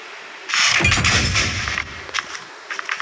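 Rapid bursts of automatic gunfire from the mobile shooter game Bullet Echo, a dense volley of shots for about a second followed by a few scattered, quieter pops, with no talking.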